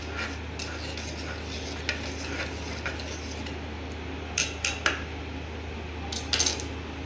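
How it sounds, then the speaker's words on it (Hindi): A knife stirs a sattu drink mixed with salt, chilli and onion, the steady swishing of the liquid broken by a few sharp clinks of the blade against the glass. "मैं चाकू से इसको घुमा देता हूँ ताकि अच्छे से मिल जाए।"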